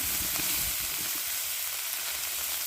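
Spice tempering sizzles steadily in hot oil for a bottle gourd chutney, a continuous close crackling hiss with no voices.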